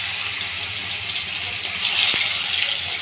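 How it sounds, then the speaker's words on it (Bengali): Fish fries in hot oil in a wok, a constant fairly loud crackling sizzle that swells slightly midway, with one brief sharp clink. "কড়াইতে তেল দিয়ে দিলাম মাছের জন্য। মাছে তেলে মাছ ছেড়ে দিব।"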